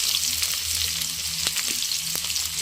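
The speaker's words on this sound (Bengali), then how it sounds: "দেখো পেঁয়াজটা দিয়ে দিলাম কাঁচা লঙ্কা দিয়ে দিলাম এখানে রসুন রসুন বাটা দিয়ে দিলাম" Onion, green chili and garlic paste fry in a hot pan, giving a steady, close sizzle throughout with a couple of sharp spatula clicks against the metal and no voices.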